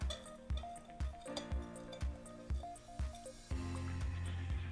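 Mineral crystals are stirred into water for growing sprouts in a Novagrow indoor garden. Rhythmic clinks and swishes repeat about twice a second, then give way to a steady wash of liquid noise, close and fairly quiet, with no talk.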